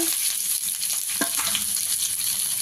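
Curry leaves fry in hot oil in a pan, giving a steady close sizzle with a brief crackling burst partway through and faint stirring, no voices.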